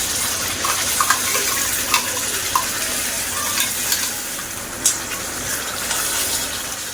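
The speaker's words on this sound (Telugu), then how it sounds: "ఇప్పుడు బాండీలో ఆయిల్ యాడ్ చేసి అది కొంచెం వేడైన తర్వాత ఈ మసాలా పేస్ట్ యాడ్ చేసుకొని ఇది పచ్చివాసన పోయేంత వరకు లో టు మీడియం ఫ్లేమ్ లో పెట్టి ఫ్రై చేసుకోవాలి" Masala paste frying in hot oil in a kadai over a low to medium flame, a steady soft sizzle with scattered scraping taps from stirring, continuous and close, with no talking.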